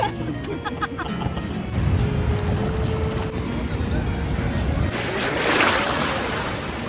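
Waves wash onto the seashore in a broad, rushing roar with wind buffeting the microphone, swelling louder near the end.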